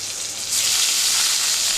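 Boiled papaya pieces frying in a little oil in a kadai, a steady bright sizzle that swells up loudly partway through and keeps hissing evenly.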